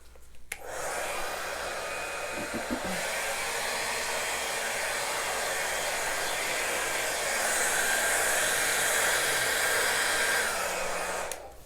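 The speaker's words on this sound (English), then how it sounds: "now let's grab the blow dryer and see what happens." A hair dryer roars at full power for about eleven seconds, blowing acrylic pour paint, a loud, steady airy rush that cuts off abruptly at the end.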